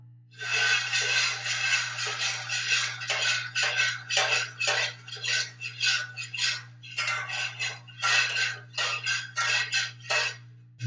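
A utensil scrapes and clinks repeatedly against a metal pot of melted candle wax in a steady stirring rhythm, close and fairly loud, with a low hum underneath.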